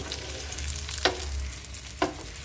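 Fried zucchini being stirred in garlic-infused oil, a steady close sizzle with two sharp scrapes of the spoon against the pan, no voices.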